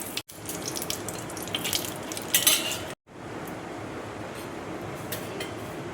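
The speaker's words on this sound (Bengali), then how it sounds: "এবার দেখো শুকনো লঙ্কা আর তেজপাতা আমি দিয়ে দিচ্ছি।" Dried red chillies and bay leaves crackle and sizzle in hot ghee inside a pressure cooker, a steady close frying hiss with brief scraping, short dropouts and no talk.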